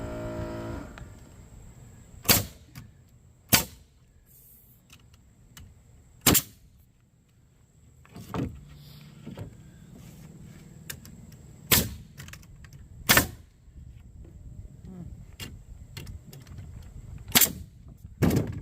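A nail gun fires around a dozen sharp, loud shots at irregular intervals while a wooden barn is framed, each crack standing alone against low background noise.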